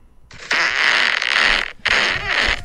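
A fart played back from a recorded audio message, coming in two long, loud, raspy bursts with a short gap between them and no voices over them.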